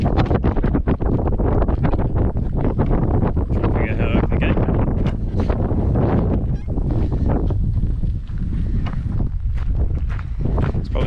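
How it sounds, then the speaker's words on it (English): Loud, blustery wind buffets the microphone continuously on an exposed hilltop in the Victorian High Country, with low rumbling gusts, faint honking in the background, and someone speaking under the noise. "It's a super exposed bit of hill. It's windy"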